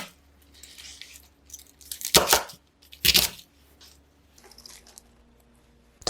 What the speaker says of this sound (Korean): 양배추는 대강 썰거나 손으로 찢어서 냄비에 넣으시고요.